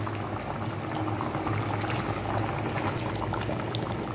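A pot of oxtail kaldereta stew with tomato paste bubbles and simmers steadily, a continuous close-up boiling sound with soft liquid pops.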